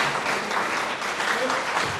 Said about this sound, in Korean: 함께 영광의 박수를 올립니다.